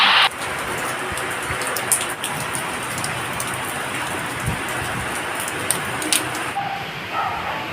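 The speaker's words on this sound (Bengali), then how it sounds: "সকাল থেকে বৃষ্টিও পড়তে শুরু করেছে" Steady rain from Cyclone Remal pours down in a constant, dense hiss, with faint scattered patters on surfaces and no break throughout.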